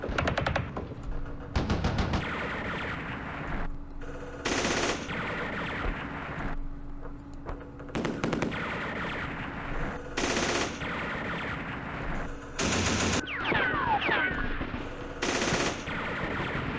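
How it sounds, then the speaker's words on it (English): Repeated bursts of automatic machine gun fire in a Vietnam War strategy game battle, several loud rattling volleys spread across the span with quieter battlefield noise between them and no talk. "we did run into some machine gun. Yeah, there's like a machine gun there or something"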